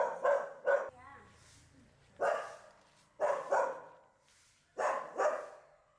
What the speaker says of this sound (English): A few dogs are barking as they see strangers approaching.